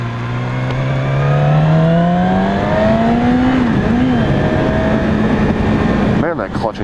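A 2016 Yamaha R6 motorcycle accelerates hard on a test ride, its engine note climbing steadily in pitch through the revs, loud and close under wind rush, before easing off at the end.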